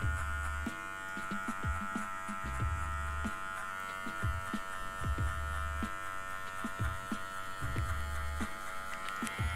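Electric hair clipper with a 1.5 guard buzzing steadily while cutting a fade haircut, a continuous close motor hum with short bursts and scraping strokes as it runs through the hair, no talking.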